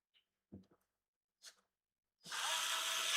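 Power screwdriver driving the last screws during an electronics repair, starting after a few faint handling taps and then running as a loud, steady whir close by.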